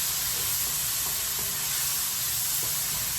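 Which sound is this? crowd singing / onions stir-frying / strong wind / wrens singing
onions stir-frying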